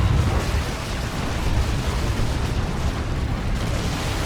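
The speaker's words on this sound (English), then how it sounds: "Was that the shotgun blast there?" Shotgun blast in the real-time strategy game Dawn of War 2 during a 3v3 battle, buried in a continuous dense rumble of explosions and combat noise with no distinct single shot standing out.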